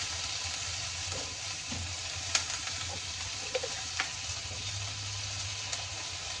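Sliced onions frying in hot oil until brown, with curry leaves then tossed in: a steady, quiet sizzle runs throughout, broken by a few sharp pops and spatters and the soft scrape of stirring, no voices.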